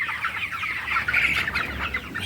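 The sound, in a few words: broiler chickens clucking in poultry shed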